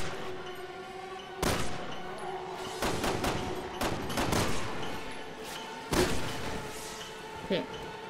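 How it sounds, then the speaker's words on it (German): Gunfire in the video game Resident Evil 6, several sharp separate shots spaced irregularly over a few seconds, with soft in-game ambience underneath and a faint voice now and then. "Die Schüsse müssen sitzen, alle."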